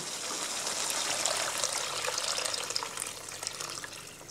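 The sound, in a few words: water being poured into a pot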